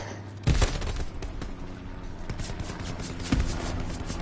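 Gunfire in the WWII shooter Hell Let Loose, with two sharp close shots standing out over a dense rumble of distant battle fire.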